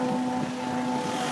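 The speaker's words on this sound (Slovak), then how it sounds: "Tento prístav je niečím zaujímavý asi v tom, že nachádza sa tu nespočetné množstvo lodí." A harbour packed with boats from about 3 to 30 metres long, heard as a steady droning engine hum with broadband wind and water wash, continuous throughout.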